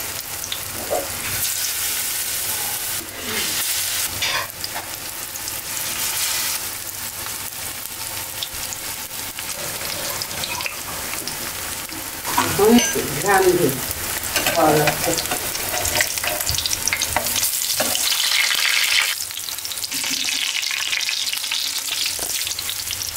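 Begun and potato chops in besan batter fry in hot oil over low heat. A continuous crackling sizzle fills the scene, with occasional utensil knocks and a brief louder burst of bubbling midway.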